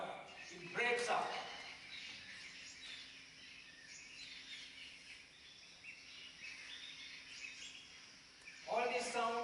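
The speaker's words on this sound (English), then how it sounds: "You have 19 species of birds to identify, over 42 individuals to recognize, if you can." Several forest birds call and chirp at low level amid faint insect buzz, with brighter bursts of song near the start and end; quiet overall, no talk.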